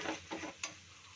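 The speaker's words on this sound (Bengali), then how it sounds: "এটাকে ভালো করে কষিয়ে নেবো এবার আমি" Onion, ginger, garlic, chilli and tomato paste fries quietly in a pan as a spoon makes three short scraping stirs over a soft sizzle.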